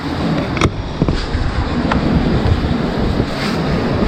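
Sea waves roll in at Patar Beach in Bolinao, Pangasinan, a loud, steady wash of surf heavily buffeted by wind noise on the microphone.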